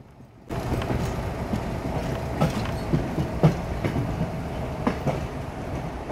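Howrah–Chakradharpur Bokaro Express leaving Kharagpur, heard from on board as a steady rumble with rhythmic clickety-clack wheel beats over the rail joints.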